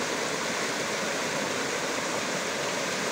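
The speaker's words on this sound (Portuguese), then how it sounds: "No meio de uma mata aqui onde nós estamos, pessoal, e a correnteza desse jeito, forte desse jeito" A strong current of rushing water in a forest after heavy rain, where a quarry has turned into a waterfall, roars as a loud, steady, unbroken wash with no talking.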